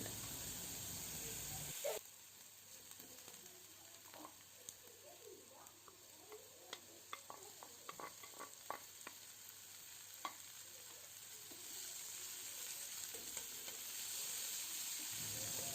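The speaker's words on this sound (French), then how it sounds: "j'ai commencé par cuire un demi-oignon avec un demi-poivron vert et tomate coupé en petits cubes dans cette poêle" Onion, green pepper and tomato, cut into small cubes, fry in vegetable oil in a pan, giving a steady close sizzle with scattered pops and crackles. A brief light scrape of stirring comes through, and no one speaks.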